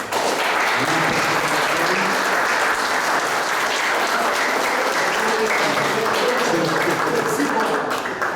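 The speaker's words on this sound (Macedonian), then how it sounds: "ние да заблагодариме на председателот со уште еден аплауз" Sustained applause from an audience honouring the president at a public debate, a dense, even wash of clapping that holds steady and loud for the whole stretch with no break.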